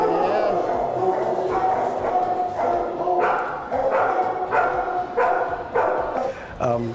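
Ashley, a dog who dislikes other dogs, gives a run of loud, close barks and yips in a rough rhythm, with people talking underneath.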